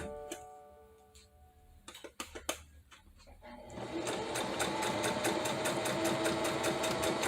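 Sewing machine stitching a nine-patch quilt block: after a few clicks and handling noises, the motor starts and runs steadily with a fast, even ticking stitch rhythm that keeps going and builds slightly louder.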